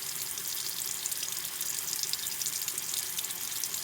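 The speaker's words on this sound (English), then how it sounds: "Rinse the brush a little bit." Tap water runs steadily over a makeup brush being rinsed in a sink, a close, even hiss and splash with no voices.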